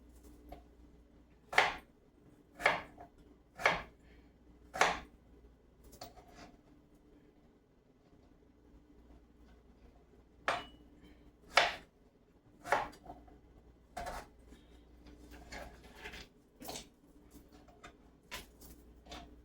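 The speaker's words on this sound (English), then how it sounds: "I got a lot of chopping to do" A knife chops onions on a cutting board, with sharp, evenly spaced knocks in two bursts and a quicker irregular run near the end, close and clear over a quiet kitchen background.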